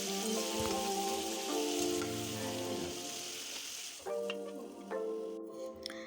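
Chicken frying in a pan with salt added, a dense crackling sizzle running steadily throughout, with metallic clinks and stirring scrapes rising near the end; no one speaks.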